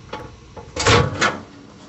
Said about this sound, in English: I opened the microwave door